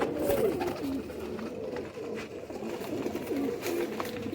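Pigeons kept for sale on a rooftop high-fly setup coo in a steady low, burbling rhythm, several birds close by with soft outdoor noise behind.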